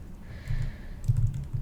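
Someone types a question into a software search box on a computer keyboard, producing a quick run of close, soft key clicks in irregular bursts with faint background hum and no talk.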